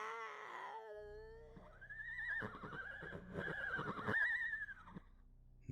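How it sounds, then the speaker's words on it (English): Horses whinny and neigh loudly in a rising, wavering call that repeats several times close by, over a low steady rumble, with no one speaking. "That sound you're hearing is the horses talking to him."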